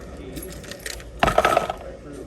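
A set of keys jingles and clinks in a short, bright burst close by, standing out over a low background murmur.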